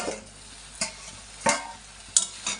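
Water spinach (kalmi shak) frying in a pan, a soft steady sizzle broken by about four sharp scraping stir strokes, with no talk.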